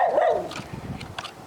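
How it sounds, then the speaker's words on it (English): A small dog barking in a public outdoor spot, a few quick close yaps with a whiny, whimpering edge, loud and alone. "He's barking at me."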